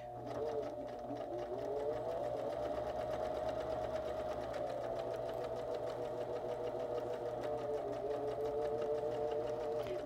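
A sewing machine stitching around the hem of a pair of jeans, a loud, steady motorized whir with a rapid needle chatter that runs without a break.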